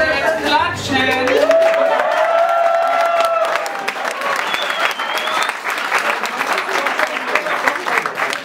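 Audience applause at a live stage show, a dense continuous wash of clapping from a large crowd with a voice and some tonal sounds over the start.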